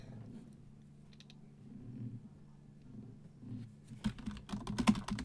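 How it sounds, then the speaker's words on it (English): Quiet room hum gives way to rapid clicking keystrokes on a computer keyboard near the end, fast and uneven. "I'm actually typing really fast all of a sudden."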